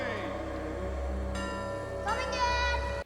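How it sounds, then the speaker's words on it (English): Church bells ring with layered, sustained metallic tones that overlap and swell as new strikes join in, loud and close, ending abruptly. "I would just assume this is the church ringing its bells."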